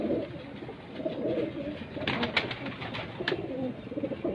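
A pigeon coos softly in low repeated murmurs over background noise, joined by a few brief sharper bird sounds midway.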